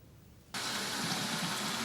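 Water gushing from a newly installed tap in a village home, starting abruptly after a quiet moment and then running as a steady, loud, close hiss.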